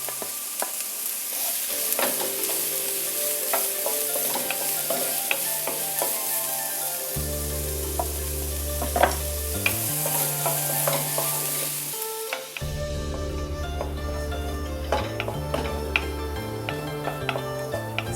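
A medium onion, finely chopped, sautés with ginger and garlic in a pan for an egg and sweet corn soup: a steady close sizzle with stirring, under background music and with no talking.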